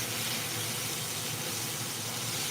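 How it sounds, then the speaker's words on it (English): Osso buco meat sears in a hot pan, giving a steady, broad hiss with a low rumble beneath, close and constant throughout. "we're going to sear a couple of these at the same time."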